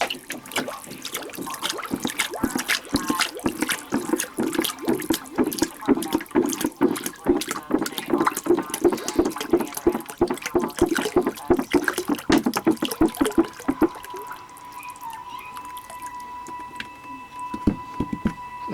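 Liquid is poured off homemade modeling clay sludge in a steady trickling, splashing stream for about fourteen seconds, then it stops and only faint drips and a quiet hum remain.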